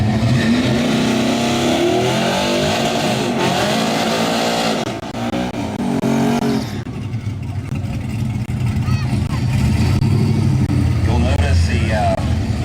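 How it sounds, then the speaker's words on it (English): A C28 Camaro drag car doing a burnout at a drag race, a loud sustained engine roar with revving swells and tire noise, with a commentator talking over it throughout. "Camaro getting a little sideways in the burnout."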